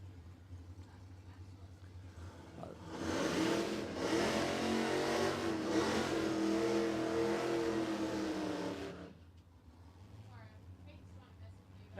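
A nitro Mustang drag car roars at Warwick Dragway, its engine building from a distant rumble into a loud, sustained high-revving blast for several seconds before cutting off and fading.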